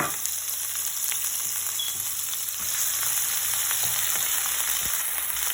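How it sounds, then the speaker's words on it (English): Chopped onion frying in a pan with cumin and fenugreek seeds, a steady bright sizzle with occasional light stirring clicks, close up and with no talking. "at this point I'm going to add my chopped onion into it"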